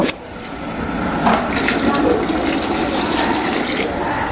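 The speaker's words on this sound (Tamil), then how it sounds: "இதுக்கப்புறம் பார்த்தீங்கன்னா தண்ணி ஊற்றி நல்லா கொதிக்க விடலாம்" Water pours steadily into a cooking pot while an herbal remedy is prepared, a continuous splashing gush filling the whole stretch at close range with no talk over it.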